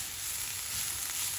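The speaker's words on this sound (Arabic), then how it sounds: "بنقليها شوي صغيرة بس ندبلها في الزيت عشان نضيفها على وش الششبرك" Green coriander fried briefly in hot oil as a topping for shish barak, giving a steady, dense crackling sizzle that fills the short moment with no talking.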